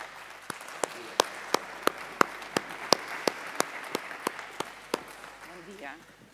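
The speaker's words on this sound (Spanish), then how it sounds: "Un aplauso para María Teresa" Audience applause at a patient-voice congress, with a few sharp, evenly spaced loud claps standing out over softer scattered clapping, and a brief voice near the end.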